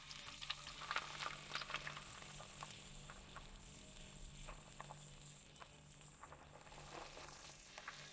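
Wild garlic fries gently in about 50 grams of oil in a pan, a soft, continuous sizzle with scattered pops and light stirring sounds, faint and close.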